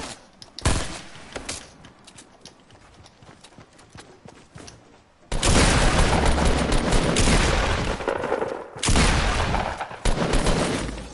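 Gunfire in Fortnite, a headshot, with quiet sparse sounds at first, then a loud sustained burst of shots and action noise from the midpoint onward, briefly easing before resuming.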